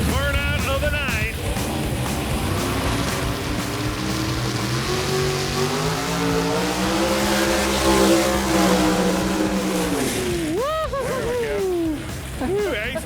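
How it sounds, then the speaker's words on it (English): A 1983 Chevy S10 drag car does a burnout at a drag strip, a loud sustained engine roar with rising and falling revs and tire squeal over about ten seconds, then a sharp final rev. "Here we go, last burnout of the night."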